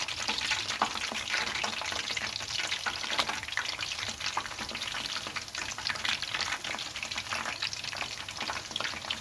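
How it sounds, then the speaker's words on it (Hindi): Spinach pakoras deep-fry in hot oil, making a dense, continuous bubbling crackle with rapid pops throughout, close and steady and without speech. "मैं दूसरा बैच इसी तरह फ्राई कर लेती हूँ।"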